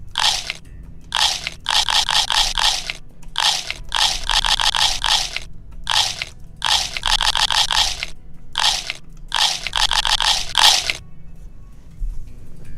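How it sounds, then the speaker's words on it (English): Loud, close crunching bites and chewing of an apple in repeated bursts, each a rapid cluster of crisp crunches separated by short pauses, no talking. "the apple crunching sound"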